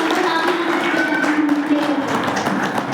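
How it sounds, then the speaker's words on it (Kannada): Parents at a school meeting of a government higher primary Kannada boys' school in Hebsur clap for a child, giving a dense, steady wash of applause that runs for the whole stretch, with voices mixed in. "ಈ ಮಗುವಿಗೆ ತಾವೆಲ್ಲರೂ ಒಮ್ಮೆ ಜೋರಾಗಿ ಚಪ್ಪಾಳೆ ಮಾಡಿ"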